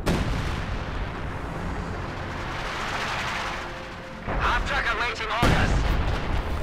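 Howitzer artillery barrage in the WWII strategy game Company of Heroes 2, heard as a dense rumbling wash of booms and blasts, with sharper bursts of explosions breaking through loudly toward the end.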